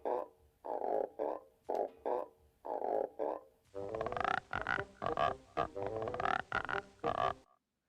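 Frog croaking imitated by rubbing one tight string across another, a series of close rhythmic raspy croaks in short bursts with brief pauses, the later ones brighter and harsher.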